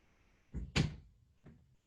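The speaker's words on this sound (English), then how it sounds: "I had to shut the door from Stella" A door indoors is pushed shut, giving a soft bump, a firmer closing thud and a lighter knock shortly after, all fairly quiet.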